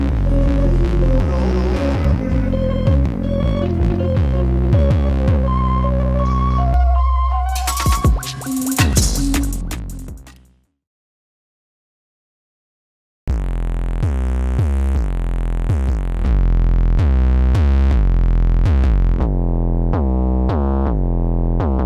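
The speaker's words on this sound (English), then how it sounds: "usually kicking off the session with a pretty standard raw 808 bass." Deep, booming 808 bass notes run through distortion throb in a loud, gritty pattern, cutting to a few seconds of silence before the heavy bass resumes.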